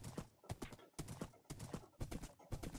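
Horse hooves in Minecraft clopping in a steady rhythm, a cluster of beats about every half second, quiet and close with no talking.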